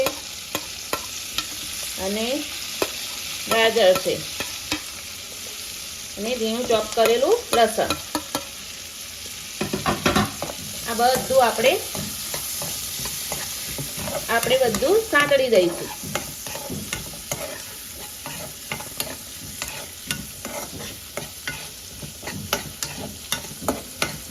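Vegetables, including onion pieces and corn kernels, stir-fry in a hot pan for red sauce pasta, a steady sizzle broken by repeated bursts of scraping as a utensil tosses the pieces, close up with no talk.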